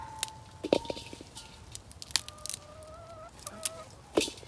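Backyard chickens clucking in a garden, several short, irregular clucks and squawks scattered over a quiet outdoor background, moderately close.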